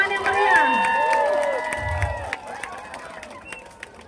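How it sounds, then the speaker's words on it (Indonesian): A crowd at a children's carnival claps and murmurs in a steady wash. The sound is close and fairly loud at first, thins out over a few seconds, and carries overlapping voices and some shouting. "Sekali lagi kita beri tepuk tangan yang meriah."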